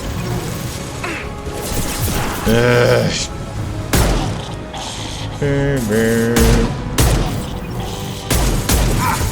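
Gunfire from the video game Mass Effect 2 crackles in loud bursts with heavy booming thuds and mechanical clatter, mixed over someone talking throughout.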